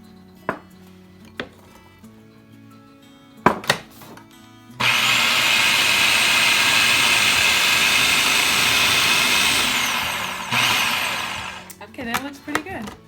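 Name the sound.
blender pulsing ingredients for Cuban roast pork marinade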